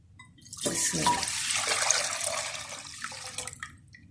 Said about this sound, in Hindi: अब मैं 1 लीटर दूध डालने लगी हूँ।